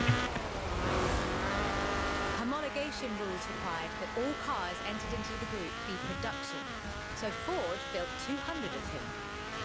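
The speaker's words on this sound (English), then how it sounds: "This was a car designed explicitly for rallying, with a powerful fuel-injected 1790cc Cosworth BDE engine." Ford Escort RS1800 rally car with a fuel-injected 1790cc Cosworth BDE engine in Forza Horizon 4, engine loud and continuous, revs climbing and dropping repeatedly through gear changes, with occasional tire squeal.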